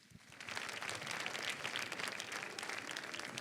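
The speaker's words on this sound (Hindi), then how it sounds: "एक बार जोरदार ताली से बजाएं।" Loud, dense applause from an audience at a Kalyanji Anandji lifetime achievement award event, steady and sustained throughout after singers are called to the stage.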